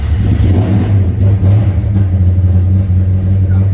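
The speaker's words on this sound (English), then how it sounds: "We're gonna fire it up. Give it a little gas." 1969 Chevrolet C/K 10 truck with a racing cam, its engine running loud and close with a deep rumbling rev.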